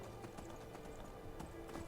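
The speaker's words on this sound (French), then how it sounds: "J'ai jamais vu un cheval courir aussi lentement que dans ce jeu." Horse hooves clip-clop at a slow, steady run in the Skyrim video game, a quiet, even rhythm of soft thuds over a low ambient game background, with no talk.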